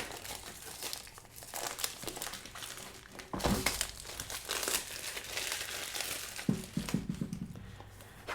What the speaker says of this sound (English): let's just peel this off. That's going to help us tear this polythene bag that comes.